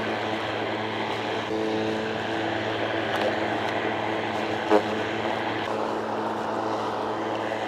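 A Litheli U20 brushless electric lawn mower cuts grass with a steady, close motor hum and whine, with brief clattering ticks of rocks being picked up, one sharper knock near the end.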